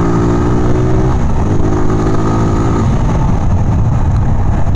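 A Zontes motorcycle accelerates hard on a city ride, its loud engine note droning close with a rising tone under heavy wind rush that stays constant throughout.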